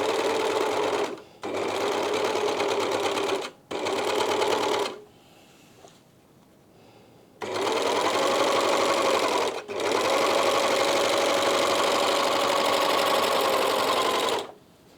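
Sewing machine stitching a fine-fibred trouser fabric around an internal corner, running in loud, steady bursts of rapid needle clatter separated by short pauses, close up with no talk.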